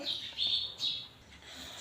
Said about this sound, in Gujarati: તમને આ ચકલીનો અવાજ આવે છે